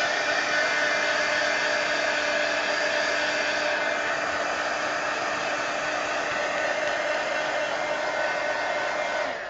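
A heat tool or hair dryer blows continuously over a mixed media art piece, a steady loud whooshing fan noise with a motor whine throughout, no speech.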